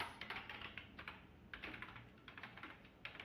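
Quiet typing on a computer keyboard, irregular bursts of soft, close key taps entering a spreadsheet formula, heard alone.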